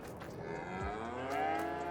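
Cows low in the farming video game Farming Simulator 22, a single soft, drawn-out moo rising and settling over a faint ambient hum, quiet and slightly distant.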